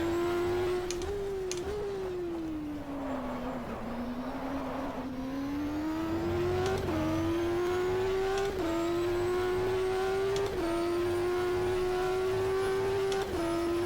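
Race car engine in the GTR2 sim at Circuit of the Americas, a steady loud high drone rising and falling through gear shifts across a lap, close and continuous with no talk.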